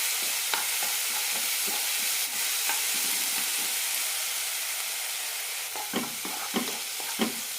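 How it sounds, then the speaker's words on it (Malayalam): Masala roasting in a pan for a soursop (mullatha) curry, with a steady close sizzle and hiss and repeated scraping stirs that bunch together toward the end. "മസാല നന്നായി റോസ്റ്റായി കിട്ടണം"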